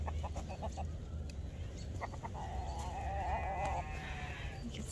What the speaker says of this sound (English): Chickens are ready for breakfast.